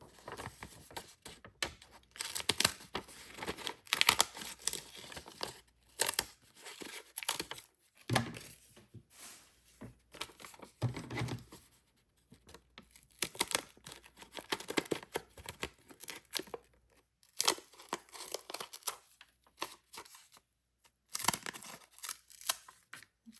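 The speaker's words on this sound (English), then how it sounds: "Maybe cut out some with these scissors, see how they look." Repeated crisp snips and rustling of scissors cutting through paper, in irregular bursts with short pauses, close and fairly quiet.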